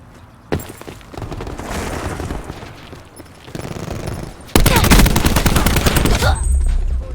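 Automatic gunfire fired from the hip in a video game, a loud sustained rattle of rapid shots that gives way to a dense, fast burst in the closing seconds.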